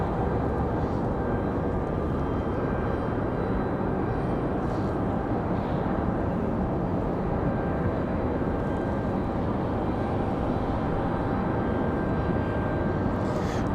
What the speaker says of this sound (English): Here comes that. Looks like a Cessna Citation.